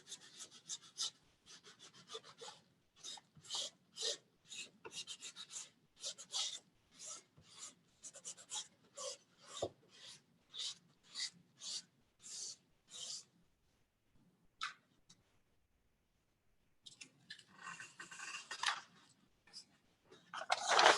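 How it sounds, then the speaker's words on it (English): Rhythmic rubbing strokes drag over a textured surface while pulling an art print, repeated scratchy passes in bursts with short pauses, close and fairly quiet, ending in a faster flurry. "and we do a little bit of rubbing."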